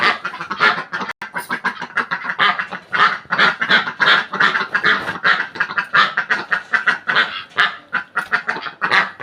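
A flock of ducks or geese honks and quacks insistently while waiting to be fed, a close, dense chorus of overlapping calls in rapid, pulsing bursts.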